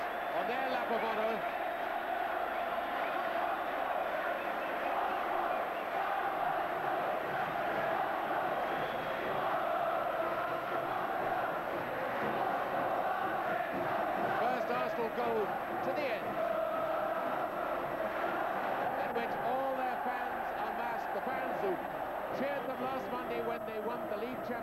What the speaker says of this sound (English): the Liverpool fans are rising to their team